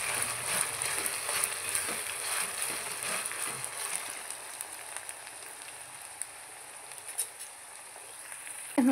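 Chopped onion with ginger-garlic paste sizzles steadily in a pan while cooking for street-style egg bhurji, a continuous close hiss with faint crackles and no talk.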